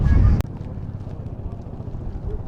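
Strong wind at the top of Shinkula pass buffets the microphone. It begins as a loud, heavy rumble, then cuts abruptly and falls to a lower, steady gusty roar.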